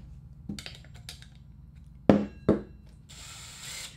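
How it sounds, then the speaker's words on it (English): Power drill with a bit, set to cut 1/4-inch plywood, gives two short, sharp revving bursts after a few light mechanical clicks, then a softer steady whir near the end. No one speaks. "let me grab my drill. Get this going."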